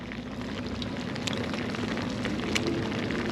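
Steady broadband hiss of rain falling outdoors on a sea fishing outing, a continuous even wash with a few brief louder drops, no talk.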